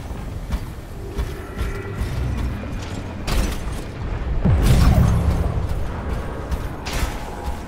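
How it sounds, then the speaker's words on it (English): Video game battle in Overwatch 2 where self-detonating robots breach vaults: a dull boom rises and rolls out amid creaking mechanical noise and scattered bangs, moderately loud with no talking. "What are those explosions?"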